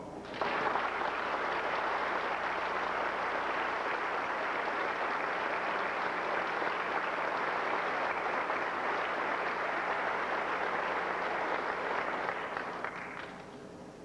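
A large graduation-ceremony audience breaks into sustained, dense applause that holds steady for about twelve seconds before tapering off near the end, with no voices over it.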